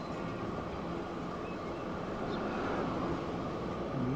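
A train passes in Transport Fever 2 with a steady broadband rumble and low mechanical drone, constant in loudness and moderately close, no speech.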